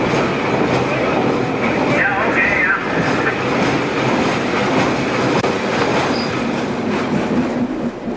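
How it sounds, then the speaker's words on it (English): A train on the Newfoundland Railway slows near Millertown Junction with continuous rumbling, rattling wagons and a brief squeal of wheels, heard close up alongside a voice talking over it. "the train slows for Millertown Junction"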